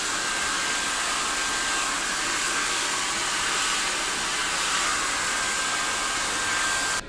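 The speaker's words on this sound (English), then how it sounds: "It's a super powerful, light, tiny little blow dryer." A small blow dryer runs steadily on a medium heat setting in a barbershop, a constant broadband whoosh with a faint whine, cutting off abruptly at the very end.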